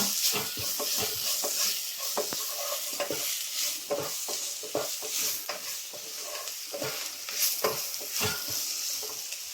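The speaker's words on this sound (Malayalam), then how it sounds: "കുറച്ച് കുരുമുളക് പൊടി എല്ലാം കൂടെ നല്ലവണ്ണം മിക്സ് ചെയ്യുക" Pasta with pepper powder is stirred in a frying pan, a close, continuous sizzle broken by repeated scraping and clinking strokes of the spoon, with no talking.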